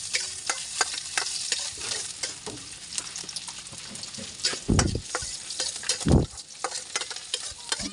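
Onions are sautéed in a pan for a chicken nugget sauce. A steady sizzle runs under repeated stirring scrapes, with two heavier knocks of the utensil partway through, and nobody talks.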